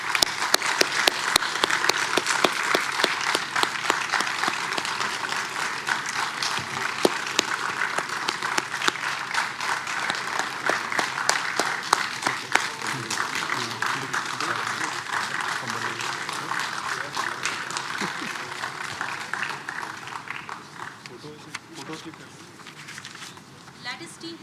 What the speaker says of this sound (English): can we keep the applause coming